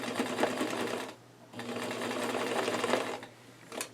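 A sewing machine chain-stitches along collar edges using a narrow presser foot, running in two long steady bursts with a brief pause between and a short start near the end, close and loud.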